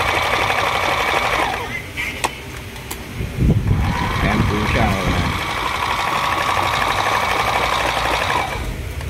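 Heavy-duty Brother sewing machine running a chain double stitch, a loud continuous rapid mechanical whir with a few brief pauses and clicks, a voice talking over parts of it.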